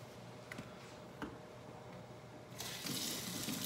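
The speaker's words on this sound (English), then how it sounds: "then add water to make up 2 cups" Water is poured into a measuring cup while making strawberry shortcake, topping the liquid up to two cups. A quiet kitchen hush gives way to a sudden, steady gushing splash that fills the last second of the sound.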